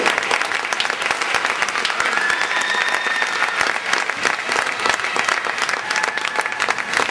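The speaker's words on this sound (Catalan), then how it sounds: "fort aplaudiment per la Judit Fernández" Loud, sustained applause from a summer festival audience for performer Judit Fernández, many hands clapping in a dense, even roar with scattered whistles and voices throughout.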